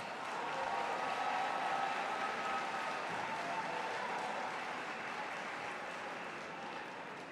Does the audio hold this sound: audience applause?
yes